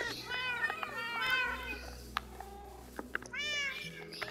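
Several cats meow in the Minecraft video game, high-pitched mews repeating across the scene over a low steady hum, with one louder burst of meowing near the end.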